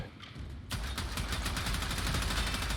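A weapon in the video game Warframe spins up and then fires in a rapid, unbroken stream of shots, loud and close, running continuously after a brief quieter lead-in.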